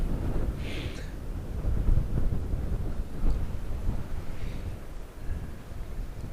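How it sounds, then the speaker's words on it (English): Strong wind gusts buffet the microphone outdoors at a cold lakeside carp fishery in freezing March conditions, a loud continuous low rumble swelling and easing in waves with no voices. "Just let that gust disappear."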